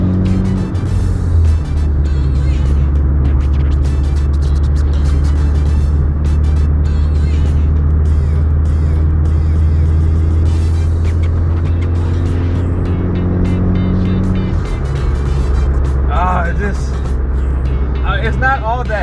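A boosted JDM car drives along, its engine a steady low drone with road noise from inside the cabin, loud and continuous, while a person talks over it throughout.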